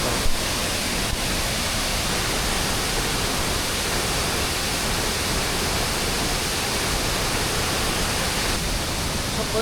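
Roar of a waterfall in Sri Lanka, a steady, dense broadband rush of falling water heard close and loud throughout, with no voices over it.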